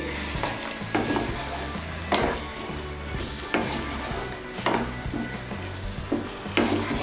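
Water splashes into a pan of spiced new potatoes and green peas, setting off a loud steady sizzle with repeated scraping stir strokes every second or so, close up and with no talking.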